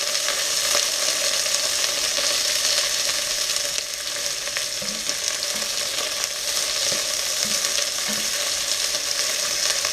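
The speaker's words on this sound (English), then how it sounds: "you want to add in your onions. And you want to give that a quick stir." Onions sauté in a very hot pan, a loud, steady, close sizzle throughout, with a few faint scrapes of stirring and no voices.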